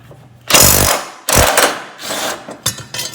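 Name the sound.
impact wrench removing Craftsman T1000 riding mower blade nut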